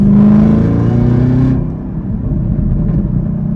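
A 2022 Chevrolet Camaro ZL1 accelerates hard, its exhaust giving a loud, deep roar heard close by. The roar drops slightly partway through, then carries on as a rumbling drone, with no talking over it.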